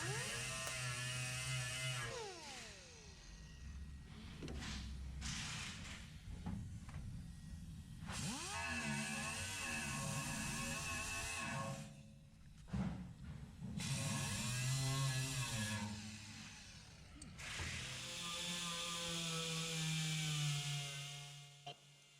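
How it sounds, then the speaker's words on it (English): A power tool grinds a GMC Sierra truck bed panel down to bare metal in several loud bursts. Each burst spins up and winds down, with short pauses between them. "So I'm just cleaning down to bare metal wherever I'm going to spot weld."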